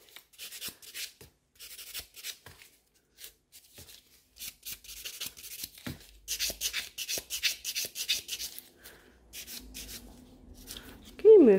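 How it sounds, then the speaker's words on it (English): Gel nails being buffed smooth with a nail buffer during a pink gel infill: soft, intermittent rasping rub strokes that grow denser and steadier partway through, close up, with a brief voiced sound at the very end. "now I'm just taking a buffer and I'm smoothing everything out"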